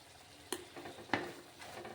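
Coconut and cashew paste with melon seed paste and spices is sautéed in a pan for pointed gourd malaikari: a faint, low sizzle broken by two sharp spatula clicks against the pan.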